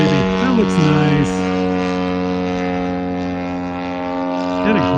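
A Super Flying King model airplane drones loudly overhead on its maiden flight, its propeller engine holding a steady buzzing tone with pitch bends as it turns, while people talk nearby.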